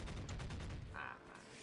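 Rapid gunfire bursts from troops shooting inside fortified walls during a Dawn of War: Ultimate Apocalypse battle between Imperial Guard and Orks, a dense crackling barrage layered with other battle noise.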